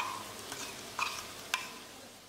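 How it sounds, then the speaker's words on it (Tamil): Onion softening in hot oil in a pan for a Tamil-style mutton chukka, a faint steady sizzle with a few light clinks of a spoon stirring. "வெங்காயம் வந்து நல்லா வதங்கி வரட்டும்"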